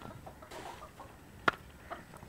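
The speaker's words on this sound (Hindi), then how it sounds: "मुर्गे बड़े तंग करते हैं, जो चीज़ रखो उस पे हमला कर देते हैं।" Roosters cluck faintly in a household yard, making several short, soft clucks over low background noise with one sharper peck-like knock.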